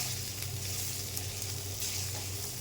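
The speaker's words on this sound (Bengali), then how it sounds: "আমার পেঁয়াজ রসুন আদা দিয়ে টমেটো আর আলু ভাজা তৈরি হয়ে গেছে" Tomato and potato frying with onion, garlic and ginger in a pan, giving a steady, close sizzling hiss that holds evenly throughout, with a low hum underneath and no talking.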